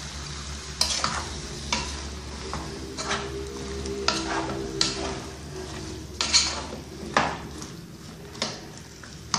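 Sliced zucchini sautés in a pan with powdered seasoning, a steady sizzle under repeated scraping and clinking strokes of a utensil against the pan, close and fairly loud, with no talk.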